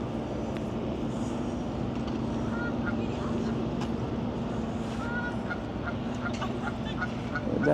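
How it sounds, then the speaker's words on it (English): A duck quacks noisily in a Boston public garden on a spring walk, its calls short and scattered over steady city traffic rumble, and people talk nearby. "The duck is being noisy."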